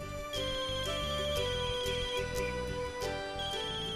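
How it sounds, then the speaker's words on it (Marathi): An incoming call sets off a phone's melodic ringtone, repeating its tune steadily and clearly with no talk over it. "अष्टपुत्रींचा फोन."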